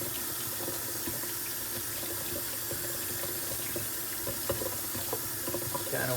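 Hot water runs steadily from a bathroom or kitchen tap into a sink, a continuous close hiss and patter with small splashes, with no talking over it.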